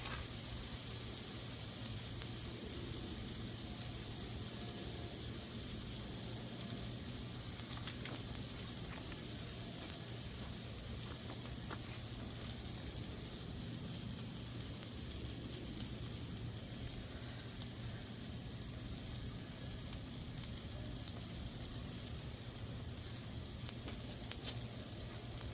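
Ribeye and NY strip steaks seasoned with salt, pepper and garlic powder sear on a Blackstone griddle over turned-up heat, giving a steady, even sizzle that holds throughout with no talk.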